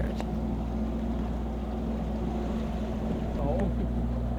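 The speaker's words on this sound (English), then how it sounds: "we had to use the engine now as the wind just disappeared." A sailboat's engine motors along in calm, windless air, a steady low droning hum that runs unbroken throughout, with faint wind noise on the microphone.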